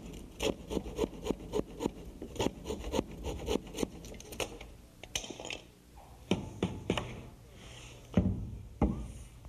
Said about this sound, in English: saw it off with a handsaw.